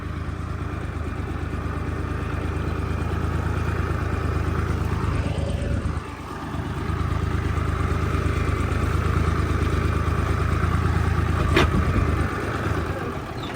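Tractor engine running steadily in a cabbage field during weeding work, a continuous low drone close by with a brief dip in level around the middle and no talk over it.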